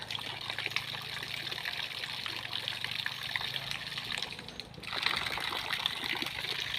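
Water trickles and pours steadily as a small child is bathed, a continuous splashing stream with a brief dip in flow partway through, close and fairly loud.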